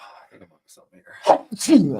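A single sneeze bursts out close by, sharp and loud, with a voice speaking just before it.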